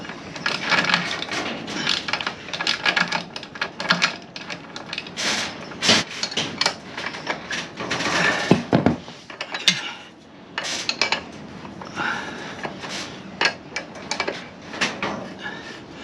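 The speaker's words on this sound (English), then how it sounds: "There's still a bit of weight on that bolt, so it's not turning too easy." A socket wrench works loose a tight 18 mm bolt on a CFmoto 450MT motorcycle, giving close, repeated metallic clicks and clanks in uneven bursts with no talk.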